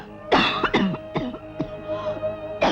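A woman coughs hard in a rapid series of harsh, throaty bursts with throat clearing, close and loud, with a steady tonal hum underneath.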